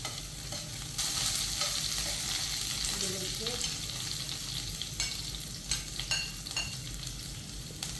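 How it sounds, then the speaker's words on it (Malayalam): Garlic sautéing in a pan for a dates pickle, a steady close sizzle with intermittent stirring scrapes and clinks of a spatula, no talking. "ഇനി വെളുത്തുള്ളിയും കൂടി ഇട്ട് കൊടുക്കുക ഇനി ഇതൊരു ഗോൾഡൻ ബ്രൗൺ കളർ ആവുന്നത് വരെ വഴറ്റിയെടുക്കണം"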